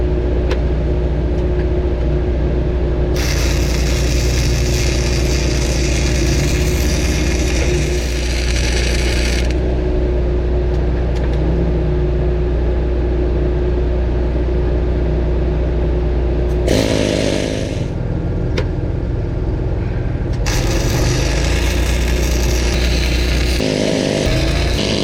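Metal is gouged on a CAT 140M grader: a loud, harsh, continuous roar with bursts of hissing blast, stopping briefly near the middle and then resuming, with no talk.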